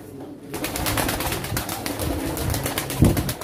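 Pigeons coo in a dense, continuous chorus at a pigeon auction, with soft wing flutters and a slightly louder coo near the end.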